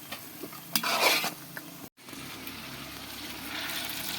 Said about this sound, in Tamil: 1 கிலோ வெங்காயம் நல்லா நைஸாக அரிஞ்சு பொன் வருவலாக வதக்கணும்